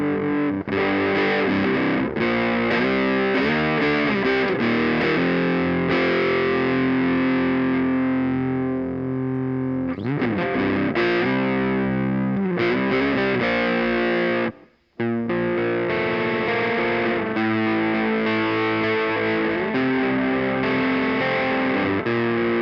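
Electric guitar played through a Torc Mòr v3 distortion pedal at moderate gain, loud sustained overdriven chords and riffs with a brief cut near the end before playing resumes.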